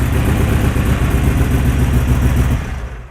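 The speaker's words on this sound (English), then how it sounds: "we still start right up" A motorcycle engine runs at a steady idle right after starting, loud and close with a constant low rumble that fades slightly at the end; no talking.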